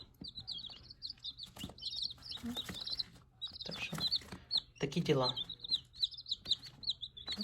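Young Maran chicks peep in quick, high, repeated chirps, fairly close but soft, broken by pauses while a person speaks briefly between them.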